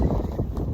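Strong wind on an exposed hillside buffets the microphone with a loud, low rumble that gusts unevenly over a brief moment.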